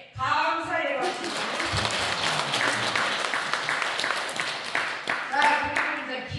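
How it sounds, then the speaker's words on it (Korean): Applause from the audience at a New Year's Day commemorative ceremony and monthly prayer service, thanking the honored guests: a dense, sustained burst of clapping that fills the room, with some voices over it at the start and end. "명사님께 감사의 박수"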